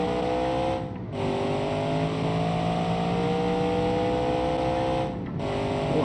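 A 4x4 car with a solid axle coil setup accelerating hard in BeamNG.Drive: a loud, steady, rising engine drone with two brief drops at gear shifts, no talk.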